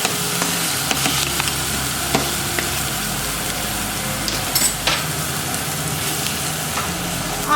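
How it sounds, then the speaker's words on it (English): Minced garlic from a whole bulb fries in butter and olive oil for homemade pizza, giving a steady, close, loud sizzle with scattered crackles and soft scraping throughout. "You have to use one whole garlic and let it fry it nicely."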